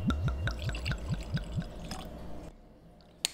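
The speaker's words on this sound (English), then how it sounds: "Let's give her a pour." Henry McKenna 10 Year Bottled-in-Bond Single Barrel bourbon glugs from the bottle into a glass in a quick run of rhythmic gurgles, close and clear, then stops, followed by a single light clink.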